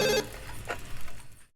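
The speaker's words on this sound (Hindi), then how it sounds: "देखो जरा किसका फोन है।" A telephone bell rings briefly at the start, then cuts off into quieter room noise and faint rustling before fading out entirely.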